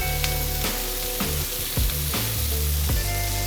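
Chopped onions and garlic sizzle loudly in a pan over very high heat, a dense, steady frying hiss broken by several stirring scrapes and shifts, with no voices.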